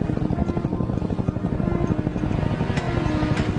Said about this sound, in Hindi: हाँ, ये हेलीकॉप्टर है, देखो वो रहा।